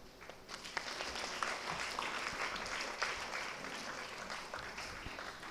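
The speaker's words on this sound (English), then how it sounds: "let's give a big round of applause as we welcome our dignitaries onto the stage" Sustained applause from an audience welcoming dignitaries onto a school event stage, steady dense clapping throughout at moderate distance.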